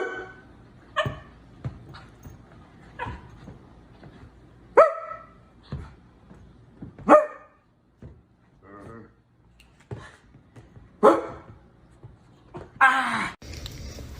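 A person imitates dog barks while a dog answers with sharp, scattered barks and yips, loud bursts separated by quiet gaps.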